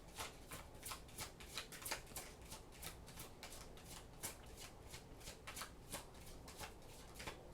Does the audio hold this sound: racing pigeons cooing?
no